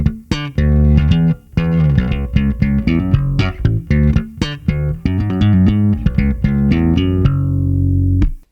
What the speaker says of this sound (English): There's always going to be a very obvious Fender Precision slap sound